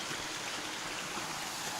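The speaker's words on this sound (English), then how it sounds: "a little stream over the trail" A small creek runs down across a forest hiking trail, giving a steady, close wash of rushing, trickling water with no pauses or voices.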